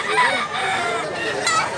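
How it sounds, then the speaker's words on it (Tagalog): An 11-month-old gray gamefowl rooster crows loudly and close, one sustained call filling the short moment. "Napakagandang manok dol, napakagandang gray"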